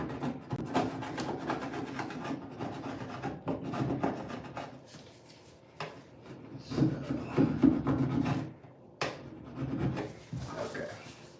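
A stiff putty scraper scrapes residue around the edges of a fiberglass shower, giving irregular close rasping strokes with short pauses between bursts.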